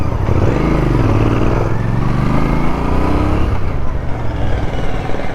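A Royal Enfield Interceptor Bear 650 motorcycle engine revs up and down through rising and falling pulls, a loud, close, throaty parallel-twin rumble that runs without a break and has no talk over it.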